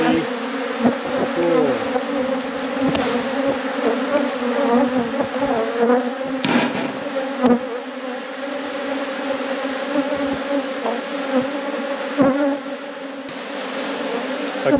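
Honeybees buzzing at an opened hive in a productive apiary, a dense steady drone with individual bees whining past close by, plus occasional handling knocks and a brief exclamation.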